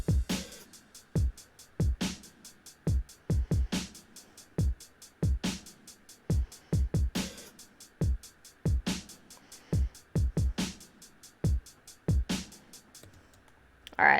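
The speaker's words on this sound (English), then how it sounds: "And then I added my own drums to layer on top of that, which sound like this by" Programmed drum track for an emotional pop punk beat built in FL Studio, playing solo: punchy kicks and snappy snares with a steady high hat pattern, loud, tightly rhythmic and continuous throughout, with no voices.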